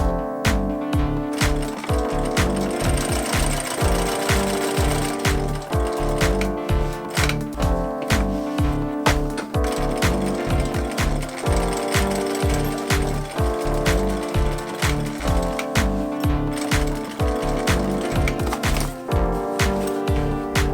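A sewing machine stitching seams on a giant homemade duffle bag, running in steady rapid bursts of needle strokes with a driving mechanical rhythm, loud and close throughout.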